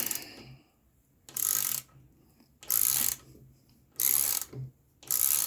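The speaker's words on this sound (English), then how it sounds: "So we need a 5mm Allen key. We slowly turn it out." A 5mm Allen key slowly unscrews a Loctite-secured suspension screw on a Honda CRF300L, four loud ratcheting bursts of about half a second each, separated by quiet pauses, close up with no talk.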